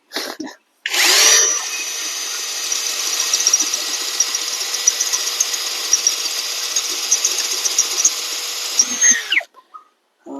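A Yofidra 3-in-1 brushless cordless drill runs in plain drilling mode, a steady high whine holding for about eight seconds after a sharp start, close and loud, then spinning down and stopping.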